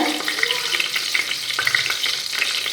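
Whole spices such as bay leaf and cinnamon fry in hot oil for vegetable biryani, giving a loud, close, continuous sizzle with faint crackles throughout.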